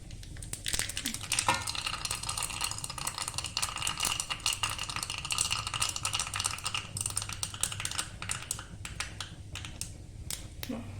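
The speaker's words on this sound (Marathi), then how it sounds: "थोडासा हिंगा आहे टाकायचा आणि थोडे तीळ टाकायचे तीळ टाकल्यानंतर हे थोडे उड़ती" Asafoetida and sesame seeds crackle and pop in hot oil for a tempering poured over rava dhokla, a quick run of close, sharp spluttering snaps over a soft hiss, fairly faint overall.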